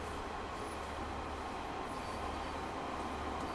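A Class 150 diesel train runs in Train Sim World 3 on the West Cornwall line, a steady, continuous rumble and rolling hum with no breaks throughout.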